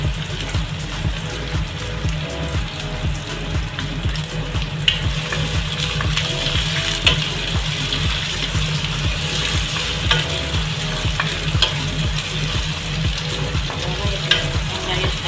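Onion and tomato sauté in a pan for a sardine perattal, a continuous close sizzle that runs under a steady, rhythmic low background beat.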